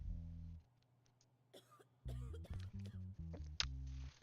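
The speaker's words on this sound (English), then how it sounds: "Coughing in my courtroom." A person coughs several times in a courtroom, a short cluster of dry coughs over music with a steady beat that comes and goes.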